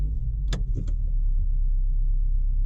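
Subaru BRZ fitted with a PSR unequal length header idling steadily, a low continuous rumble with a couple of brief mechanical clicks near the start.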